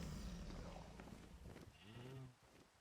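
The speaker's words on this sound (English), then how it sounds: "There's more sheep." Sheep bleating in a video game, a distinct wavering bleat near the end over a low murmur of background game sound, with no speech.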